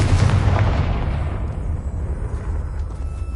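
A Confringo blasting curse explodes in the Hogwarts Legacy video game: a loud, close, rumbling boom with a broad roar that slowly fades over a few seconds.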